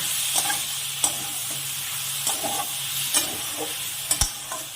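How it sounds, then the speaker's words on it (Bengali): Ridge gourd and potato sautéed with poppy seed paste in a pan, soft sizzling beneath regular spoon scrapes and taps as the mixture is stirred, close and fairly quiet. "এবার আমি এটাকে ভালো করে কষিয়ে নেব ঝিঙে আলুর সাথে।"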